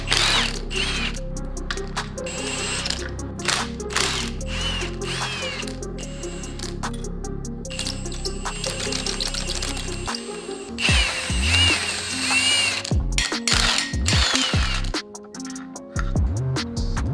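Ratchet wrench work on the bolts of a Subaru STi engine build, steady mechanical clicking and whirring up close, with brief louder clattering bursts partway through.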